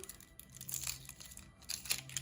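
A handmade paper surprise packet with a sushi theme is torn and crinkled open close up, with soft rustling and short tearing bursts and no voices.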